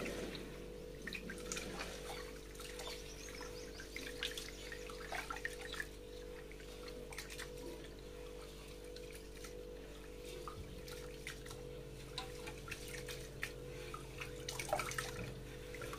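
Rice is washed by hand in a pot of water, with soft, faint sloshing and dripping sounds continuing steadily over a constant low hum.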